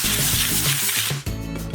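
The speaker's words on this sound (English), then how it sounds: "I'm just gonna take a little bit of olive oil spray and spray it on the inside." Olive oil spray hisses from a can into the basket of an air fryer: a few short, close spray bursts with a rubbing texture, then a brief pause and one more spurt.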